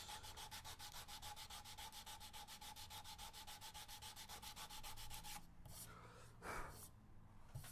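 Steady back-and-forth rasping of 100-grit sandpaper on the X-braces inside an acoustic guitar, rhythmic strokes running close and even for about five seconds before stopping, followed by a few quieter rubs and a breath.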